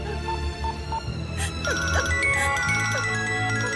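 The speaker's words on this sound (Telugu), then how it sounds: "ఫోన్." A phone ringtone plays in a Telugu movie scene, a melodic electronic tune over background music and ambient sound, moderately loud and continuous through the moment.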